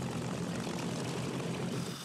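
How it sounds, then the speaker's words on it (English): Vintage propeller planes, among them a B-25 bomber and P-51 Mustangs, drone overhead in a steady, loud roar of engines, unbroken and with no talking. "this band of 8 civilian pilots aboard vintage planes"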